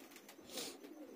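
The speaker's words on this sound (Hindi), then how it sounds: "देसी कबूतर हैं ये।" Desi pigeons at Kiratpur give a soft, continuous cooing murmur at close range, steady with a slight swell midway, with no voices over it.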